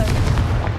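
A Confringo explosive spell in Hogwarts Legacy lands as a short, loud, booming burst with a deep thudding punch, lasting under a second and close up.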